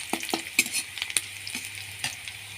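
Sliced onion and green chilies fry in a pan, giving a steady close sizzle broken by sharp clicks and scrapes of stirring. No voices.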